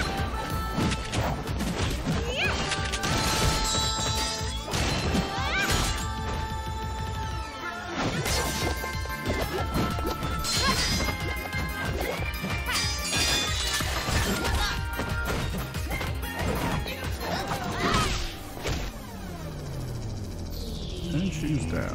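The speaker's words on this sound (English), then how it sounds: "A lot of broken glass." Glass smashing repeatedly amid loud clashing impacts and music in an animated RWBY action trailer, with a dense, continuous barrage of crashes and voices throughout.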